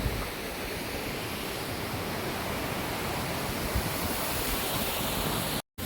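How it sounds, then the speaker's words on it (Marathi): A river flows in a continuous, loud broadband rush of water with no voices, cutting out abruptly just before the end. "मग एक खूप छान अशी नदी आहे इथे"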